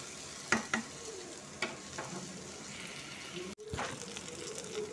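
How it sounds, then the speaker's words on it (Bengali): Vegetables fry over raised heat in a pan, a soft steady sizzle broken by a few scraping stirs, fairly faint and close. "একটু আঁচটাকে বাড়িয়ে দিয়েছি, কারণ একটু ভেজে নেব হালকা হালকা করে"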